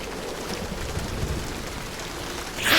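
Heavy rain in a video game, a steady dense hiss of downpour filling the scene evenly with no voices over it, rising into a brighter rush at the very end.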